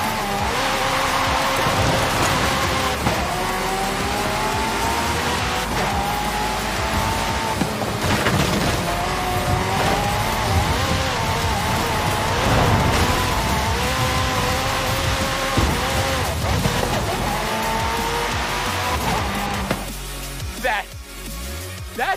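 A car driving in Forza Horizon 5 in Mexico, its engine droning steadily with shifting pitch over a continuous loud bed of game sound, as if rain or road noise, fading out near the end.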